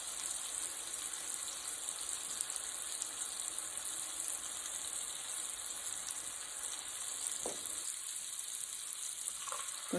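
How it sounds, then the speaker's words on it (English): Blackened salmon frying in a pan on a turned-down stove, a steady even hiss of crisping fish running continuously at moderate volume, with a couple of brief clinks near the end and no talking. "It doesn't take salmon long to cook, but we do want it to have a good crispy crust on it."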